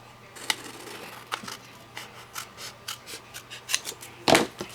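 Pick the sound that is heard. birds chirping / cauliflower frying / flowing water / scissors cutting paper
scissors cutting paper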